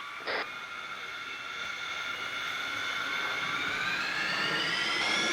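Aircraft engines in ARMA 3 spool up steadily, a rising whine that climbs in pitch and grows slowly louder over a constant roar, with one brief click near the start.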